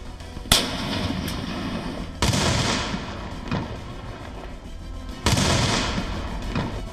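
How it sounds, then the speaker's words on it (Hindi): A bomb blast inside an ordinary scooter, an IED explosion: sharp, loud bursts ring out alone, with a first crack followed by two heavier booming detonations spaced a few seconds apart, each trailing off into rumbling noise. "कुछ ऐसा ही धमाका इस साधारण से स्कूटर में भी हुआ।"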